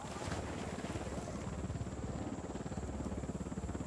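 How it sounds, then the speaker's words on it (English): Enemy helicopter approaching in the video game Ghost Recon Wildlands, a steady low rotor and engine drone that holds loud and continuous throughout, with no speech over it. "Unidad bird approaching. Stay down."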